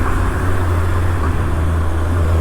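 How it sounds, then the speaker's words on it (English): Kawasaki ZX-6R sport motorcycle engine braking on a road in India, a steady loud low engine drone that holds throughout without pauses, with traffic noise around it. "The engine braking, whoa, monstrous."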